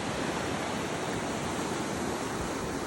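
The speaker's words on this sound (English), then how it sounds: "That is a lot of water." Heavy floodwater rushes steadily across a flooded farm road in Australia after a freak storm, a loud, continuous broadband roar with no breaks and no voices.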